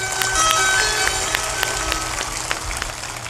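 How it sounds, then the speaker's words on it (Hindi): Audience at a religious program in India clapping loudly, a dense patter of many hands with sharp individual claps standing out, steady for a few seconds with a voice faintly underneath. "जोर से ताली बजाओ"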